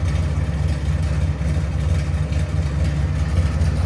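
A 1970 Chevy Chevelle SS 454 big block V8 with headers and straight pipe idles loud and close, its deep, lumpy rumble pulsing steadily throughout with no talk over it.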